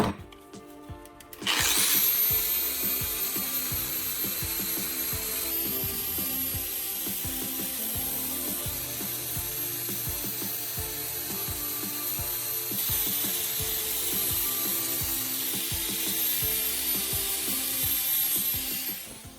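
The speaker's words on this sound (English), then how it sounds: "I switch to a flap sanding disc and gently grind away every burr left from the cuts." A flap sanding disc on a power grinder grinds burrs off cut steel bar edges, spinning up sharply at the start, then a steady high whine with rough scraping, rasping contact and small clicks running loud and close throughout.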